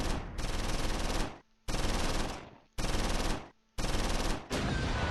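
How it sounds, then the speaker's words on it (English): Machine gun fire in the WWII video game Close Combat IV: four loud, sustained bursts of rapid automatic fire, each about a second long, separated by brief pauses. "All of the machine gun fire right on Kelly."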